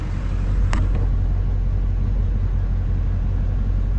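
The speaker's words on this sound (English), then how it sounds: "Motor sounds really good." The Duramax diesel engine of a truck idles with a steady low rumble at close range, with one brief sharp click early on and no talking.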